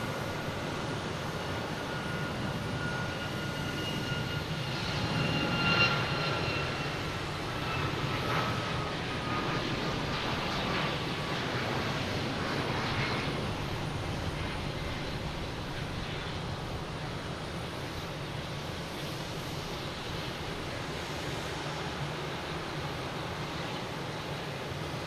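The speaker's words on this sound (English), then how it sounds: "Takeoff is WestJet." A WestJet airliner taking off at Boston Logan Airport in the evening, a steady distant jet roar with broadband rumble that swells slightly then holds, with no talk over it.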